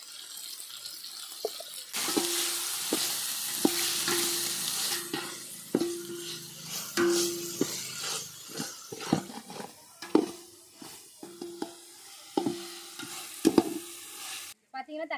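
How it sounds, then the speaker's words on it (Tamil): Tomatoes and onions sauté in a pan with a soft sizzle, punctuated by repeated scraping and knocking of a ladle being stirred, close and moderately quiet, with a brief bit of background voice. "தக்காளி வெங்காயம் நல்லா வதங்கிருச்சு"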